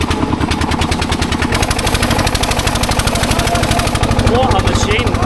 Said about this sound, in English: I think we're going to try and take it easy in this tractor.